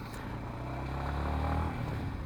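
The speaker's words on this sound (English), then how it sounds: "So yes, I'm starting the bike now. All right, the exhaust note is very beautiful." Yamaha XSR 155 motorcycle idling after startup, its single-cylinder exhaust giving a steady low rumble close by that swells slightly midway, with no talk over it.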